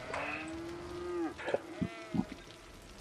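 Cattle mooing in the city-building game Cities Skylines: one long, drawn-out moo followed by several shorter, overlapping lows from a small herd, heard alone and fairly close.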